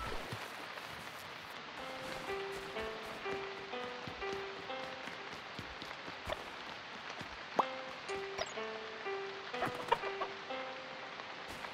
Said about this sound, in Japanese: あ、鶏。